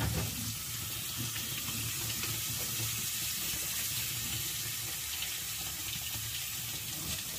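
Tap water runs hard and steadily into a sink while winter neungi mushrooms are washed, a loud broad splashing rush with small clatters and handling noises throughout.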